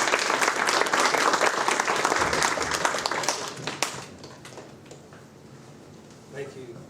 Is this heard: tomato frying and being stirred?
no